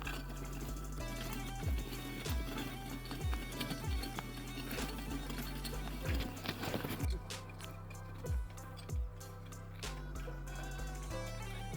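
Horse hooves clip-clopping at a slow walk in a farming simulator game, regular hollow knocks over a dense backdrop of game music and ambience.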